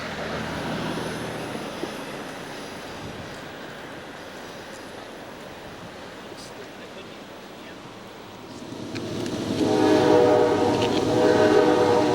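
A Norfolk Southern freight train, a dedicated Daimler Chrysler auto train, rumbles past loudly and steadily, and its horn swells near the end.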